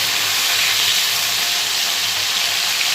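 Bhola fish fried in oil in a pan, giving a continuous bright crackling hiss close by, even and unbroken, with no talk over it.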